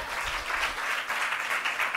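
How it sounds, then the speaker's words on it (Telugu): Church congregation clapping in praise of God during a sermon on fasting prayer, a dense, sustained burst of applause from many hands filling the room, heard without talk. "చప్పట్లు కొట్టి దేవుని స్తోత్రం"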